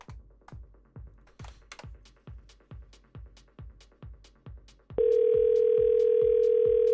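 A telephone call placed to a number: rapid clicking taps, then from about five seconds a loud, steady, continuous line tone that holds to the end, with no voices.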